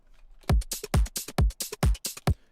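Top drum loop from a Splice sample, playing a punchy, regular rhythm of booming kick hits alternating with crisp snares and hats, loud and upfront with no voices.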